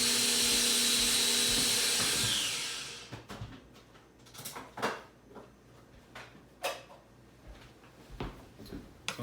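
A coffee bean grinder whirs loudly with a high, steady grinding noise for a couple of seconds, then winds down and stops, followed by scattered quieter clicks and knocks of handling.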